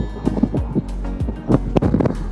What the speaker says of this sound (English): Really windy out here and I'm starting to get a little drizzle